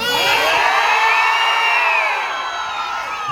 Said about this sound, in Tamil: இந்த மாதிரி ஒரு கைத்தட்டல் ஒரு ரெஸ்பான்ஸ் ரொம்ப ஹாப்பியா இருக்கேன்.